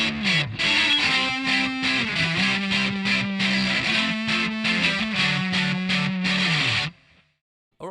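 Distorted electric guitar playing the C section of a song, a loud, choppy riff with sliding low notes and stabbed chords, then stopping abruptly into near silence.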